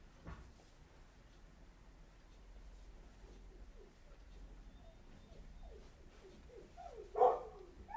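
A dog barking faintly in the background, scattered and distant, with one louder bark near the end and bird cooing mixed in.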